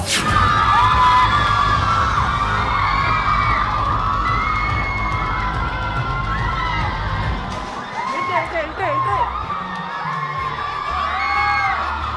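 College students at a film promotion cheer in a dense, loud crowd roar with high-pitched shouts and whoops. The noise is steady at first and then breaks into scattered yells and chants.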